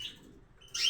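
Pet goldfinches and canaries at a water dish give short, bright chirps, one at the start and a louder burst near the end, close by with no talk.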